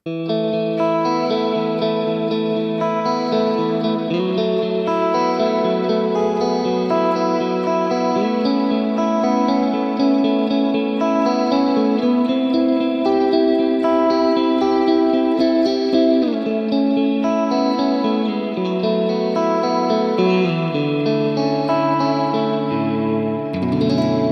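Guitar played through a Tone City pedal set for a modulated, soundscape-like wash with long decay, sustained layered chords swelling and blending continuously with no pause.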